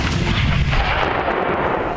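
Ultra light howitzer artillery firing, a loud, heavy boom with a deep rumbling roll that fills the whole stretch, no voices.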